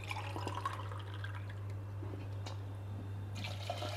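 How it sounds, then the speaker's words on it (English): Water pours into a pot of sautéed carrots and onions, a steady liquid rush with faint trickles under a constant low electrical hum, heard close and alone. "2 cups of water and we'll pressure cook this for 2 whistles"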